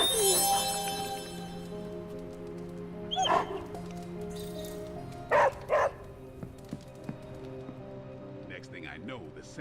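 A dog in the Marvel Midnight Suns video game gives short yips, whimpers and a couple of sharp barks in scattered bursts, moderately close over background music and ambience.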